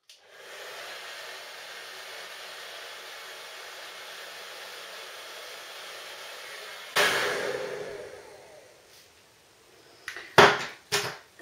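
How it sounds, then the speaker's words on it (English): A hair dryer blasts fine bob-length hair being styled with a big round brush, a steady close airy roar that cuts off partway through, followed by a few knocks and clatters. "I take my big brush and I grab this bit and that flat front of my fringe and I will just blast it with the hairdryer"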